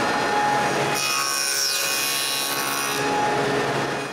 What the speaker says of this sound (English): Using one cutoff as a guide, I lower the dado stack to the right height and cut a test.